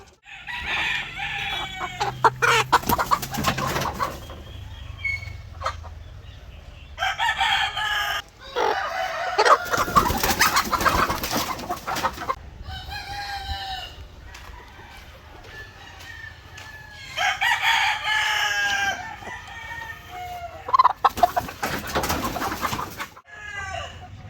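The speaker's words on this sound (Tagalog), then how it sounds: "yan meron tayong apat na manok" Four chickens in a breeding pen cluck in bursts while a rooster crows loudly several times, close by, with scuffling and rustling between calls.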